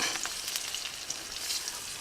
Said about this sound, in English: I'm gonna start frying some chicken.